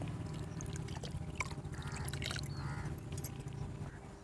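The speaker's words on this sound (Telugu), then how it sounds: "ముప్పావు గ్లాసు వాటర్ కూడా వేసుకోవాలి" Water is poured into a pot, a faint steady splashing and trickling with a low hum in the background.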